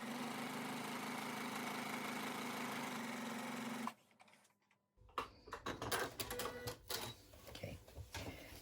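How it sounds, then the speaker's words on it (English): A sewing machine quilts a round rice bag in one steady, fast-running stretch of humming needle clatter, then stops, followed by rustling fabric and handling knocks up close. "now I quilt on in the other direction"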